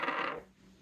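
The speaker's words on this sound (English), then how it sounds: "so I'm gonna roll the dice again." Dice rolled onto a hard surface: a short, bright clattering rattle lasting about a third of a second, then fading into near silence.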